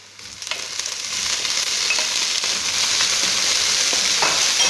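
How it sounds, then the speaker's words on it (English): Broccoli and onions stir-frying in a pan, a strong continuous sizzle that builds quickly after the vegetables go in, with occasional stirring scrapes, close and alone without talking. "So at this point, I'm going to add the broccoli."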